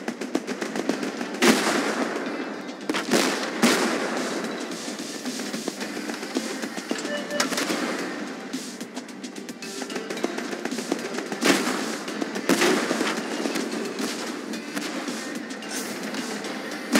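Rapid gunfire and explosions from the tank battle game Tank Force, a dense continuous barrage with sharp loud bursts near 1.5, 3.5, 7.5 and 12.5 seconds, no speech.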